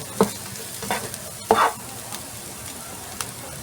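Onions sautéing in a non-stick pan for fried rice, a few scraping stirs of a utensil against the pan over a low background sizzle, close and moderately loud, with no talking.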